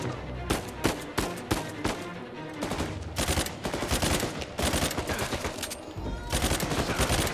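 Repeated gunfire from the video game Uncharted 4, sharp bursts and rapid volleys of shots firing loudly and densely over several seconds with short gaps, mixed with game sound effects.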